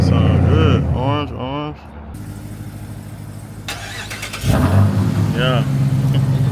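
A loud Jeep Trackhawk engine revs hard and settles into a deep idle, then revs again, with voices talking over it at times.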